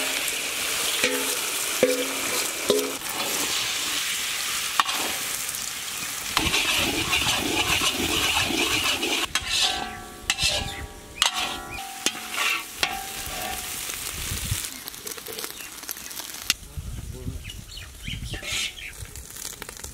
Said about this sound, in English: Vegetable oil. Let's make egg fry.